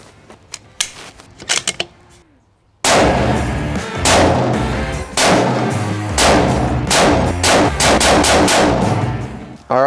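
Unsuppressed 6.5 Creedmoor rifle shots ring out close and loud, a string of sharp blasts fired at a steady pace after a few quieter clicks of handling.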